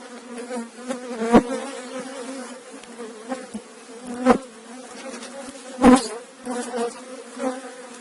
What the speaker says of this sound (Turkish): O yüzden arılarımız kızıyor.